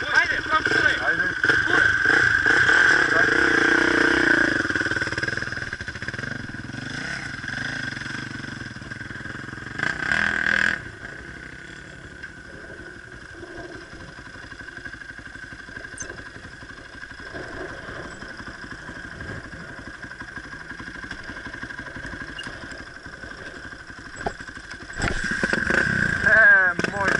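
Yamaha enduro motorcycle engine in a village setting, idling and revving loudly at the start and again near the end, with a quieter running stretch between while people talk over it.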